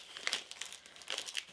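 A plastic Ziploc bag holding a small box of quilting pins crinkles while being handled, in quiet, close, intermittent bursts of crackling.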